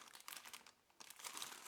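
Clear plastic bag sealed around a fresh medical-grade air purifier filter crinkles in close, quick bursts of crackling rustle, with a brief pause midway before a second, louder stretch of handling.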